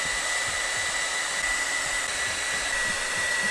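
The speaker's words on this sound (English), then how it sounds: "Got a damn fancy ray gun blow dryer." A blow dryer with a ray-gun-style attachment runs continuously, a loud steady whooshing roar with an even motor whine, close by and alone, with no talking.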